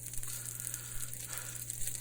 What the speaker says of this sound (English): that sizzling sound is just so satisfying